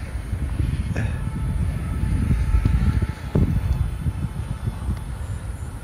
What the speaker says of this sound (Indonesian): Ini angin dari sebelah kiri ya.